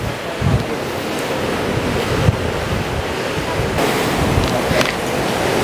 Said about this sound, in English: rocking in the waves.